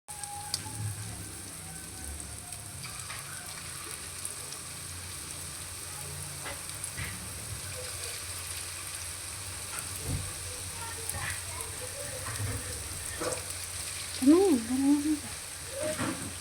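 Potato ham sticks fry in hot oil with a steady, close crackling sizzle throughout, and a brief clatter of a utensil comes near the end.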